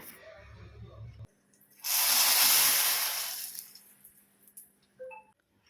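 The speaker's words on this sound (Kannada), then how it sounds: "ಇವಾಗ ಒಗ್ಗರಣೆಯನ್ನು ಹಾಕ್ಕೊಳ್ಳೋಣ." After a soft clatter, a loud burst of sizzling erupts as a spice tempering hits hot oil, hissing strongly for a couple of seconds, then fading into faint crackles.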